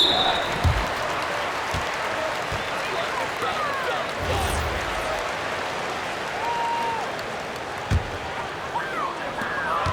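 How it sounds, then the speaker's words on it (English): Basketball arena crowd in NBA 2K26 cheering and applauding in a steady roar, with sharp ball bounces and squeaks mixed in and a commentator talking over it. "the crowd letting him know they appreciate his greatness"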